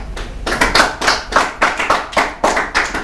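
A small audience clapping at a student event, sparse uneven hand claps in loose bursts, close and without talk.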